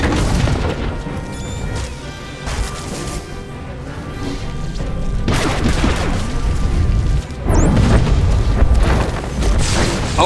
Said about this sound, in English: the knight detonates the research terminal. This explosion finished off the jungle crawlers